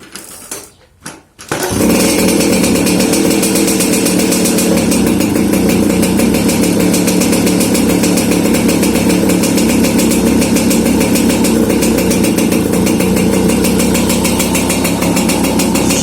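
An MBK 51V moped with an AV10 engine fitted with an 80 carburettor jet runs steadily after a brief start, a loud, continuous buzzing two-stroke drone that stays close and unbroken, with no talk over it.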